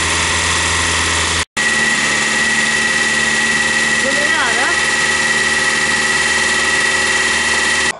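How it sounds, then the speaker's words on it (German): An old Derby car engine runs at high idle after carburetor jet adjustment, a loud steady drone with a whining tone, briefly cutting out once before resuming evenly. "Wir haben jetzt einen runden Motorlauf"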